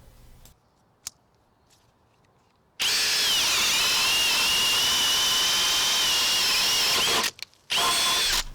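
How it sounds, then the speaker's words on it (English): A RIDGID cordless drill bores through wood with a 1-inch spade bit, giving one loud, sustained, close whine for about four and a half seconds, then a short pause and a brief restart, after a few quiet taps. "Just let the drill do the work for you."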